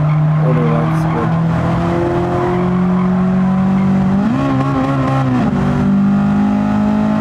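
Honda Civic Type R EK9 engine revving hard in a racing video game, a loud continuous whine rising and shifting pitch through an upshift, with tire squeal mixed in and a person talking over it.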